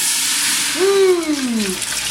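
Strained broth from boudin-making is poured back into a pot, giving a steady splashing hiss through the clip, with a brief rising-and-falling tonal squeak over the middle.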